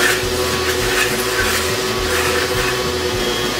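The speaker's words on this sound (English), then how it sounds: "Next, take your vacuum." A vacuum cleaner sucks debris out of a freshly drilled hole in a broken head bolt on a Vortec 4200 engine from a Trailblazer, a steady close whine and rush running unbroken from start to finish.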